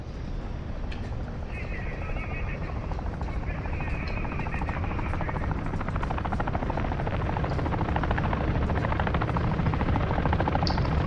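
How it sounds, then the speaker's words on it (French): Enemy attack helicopter in the Call of Duty DMZ video game, a continuous rotor drone and buzz that grows steadily louder as it approaches, with faint game sounds layered over it. "l'hélicoptère d'attaque ennemie se dirige vers vous."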